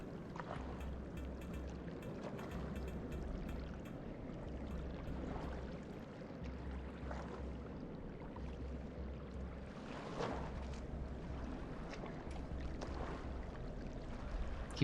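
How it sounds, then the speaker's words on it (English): Water splashing and sloshing in the video game Rain World: Downpour, a steady wet churning with a low rhythmic pulsing hum underneath, continuous and moderately loud with no talking. "I keep hearing like splashes and I'm scared."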